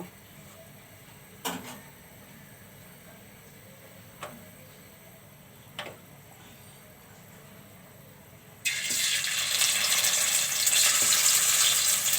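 Hilsa fish pieces go into hot mustard oil in a wok. A quiet stretch with a few sharp clicks gives way to a sudden loud, steady sizzle that continues to the end.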